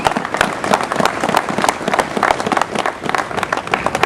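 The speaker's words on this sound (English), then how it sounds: "That's an applause line again, guys." Audience applause at a 2009 lobby day rally for a gun-rights speech, a dense steady wash of many hands clapping close and loud, with a few scattered shouts mixed in, running without a break.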